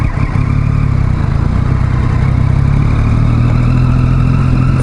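Motorcycle riding through rush-hour traffic: a continuous loud engine drone with rough, clattering low rumble and wind noise, steady throughout with no voices.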